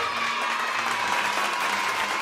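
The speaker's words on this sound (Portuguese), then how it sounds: "Vamos soltar os nossos aplausos." Steady applause fills a short stretch, dense and even throughout, with a faint hum underneath, following a call for a round of applause in Rio Verde.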